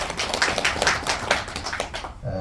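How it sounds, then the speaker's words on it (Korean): Audience applause at an indoor Korean political gathering rises as a steady wash of overlapping hand claps, loud and sustained for about two seconds before cutting off sharply near the end. "여러분 박수 한번 주십시오."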